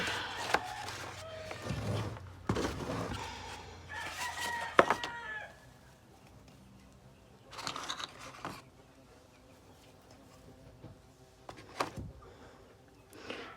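Chickens cluck and a rooster crows repeatedly at a distance, the calls coming in scattered bursts across a quiet outdoor background.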